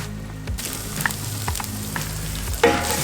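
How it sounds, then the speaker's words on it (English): Caramelized onions tipped into a hot pan of crisping potato chips, the gentle sizzle jumping to a brighter, louder hiss as they land, with a couple of light utensil taps before it. "Time to add our caramelized onions."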